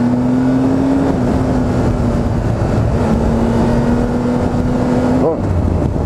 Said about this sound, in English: A bit of revs.